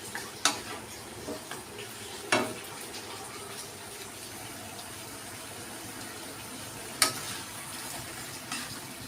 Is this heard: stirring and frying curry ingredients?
yes